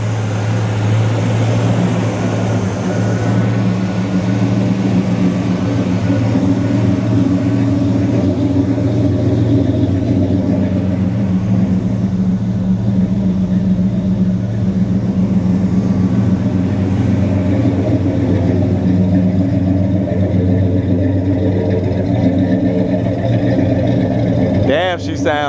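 Classic car engine idling strong at a rolling car museum show: a steady, loud low rumble holds throughout, with a few faint revs, while a voice speaks over it.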